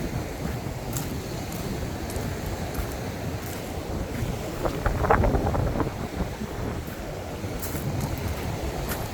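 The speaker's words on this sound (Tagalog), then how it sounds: "Lumakas uli ang hangin habagat ah." Strong southwest monsoon wind roars and buffets the microphone steadily, with a brief stronger gust midway and no one talking.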